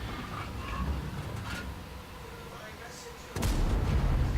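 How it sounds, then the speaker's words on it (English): A tank cannon fires once in a video game, a sudden heavy boom with a rumbling low tail that lifts the level sharply near the end, over steady background game noise. "Put one into the turret, so does Alex on the E100"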